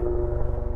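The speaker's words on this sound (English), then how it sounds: "But Yuri, helicopter. Look how sick that is. We're interrupted by Helicopter" A helicopter passes near a Toyota 4Runner TrailHunter and TRD Pro outdoors, its steady low rotor thump pulsing in a fast even rhythm, loud and close, with no talk over it.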